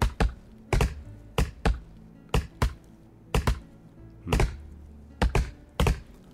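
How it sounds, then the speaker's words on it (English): An axe chops a tree in the Roblox game Lumber Tycoon 2, giving sharp, close thunks that mostly come in quick pairs, repeated steadily about a dozen times with no talk. "chopping away before I go."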